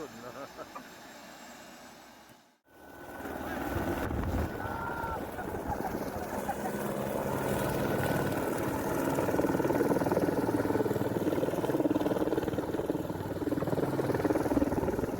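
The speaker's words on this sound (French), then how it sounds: "Voici l'hélicoptère dans le ciel, il arrive à l'ABCD" A helicopter comes in over a village church in Labécède, its rotor and engine noise building steadily from distant to fairly loud and continuous, after a brief dropout early on.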